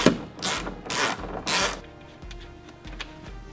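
A ratchet with a 10 mm socket clicks in four loud, quick bursts while loosening a nut on a Lexus IS tail light, followed by softer, slower ratcheting clicks close by.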